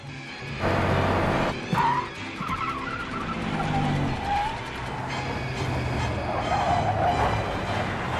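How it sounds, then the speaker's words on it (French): A car from the 1971 film Duel skids on a road leading to a café, then crashes into a barrier. A loud, sustained engine roar and tire noise play throughout, with no talking. "effectue un dérapage contrôlé et s'encastre dans une barrière"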